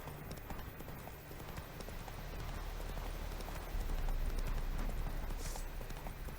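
Roach, the horse in The Witcher 3, gallops with a dense, continuous rhythm of hoofbeats over a steady rumble. The sound stays loud and close throughout.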